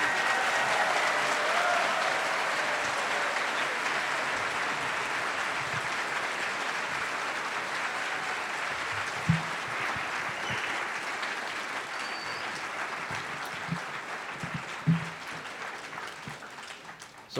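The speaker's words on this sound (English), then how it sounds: "let's give our students one final round of applause" A large audience at a medical school white coat ceremony gives the students a long, sustained round of applause. The clapping stays steady and even for over fifteen seconds, fading slightly near the end, with a few louder thumps close by.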